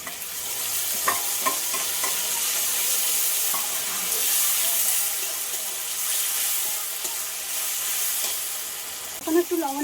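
Grated tomato sizzles steadily in a hot pan while it is stir-fried with country chicken and raw mango, a broad continuous frying hiss with a few soft utensil scrapes and a louder clatter right at the end.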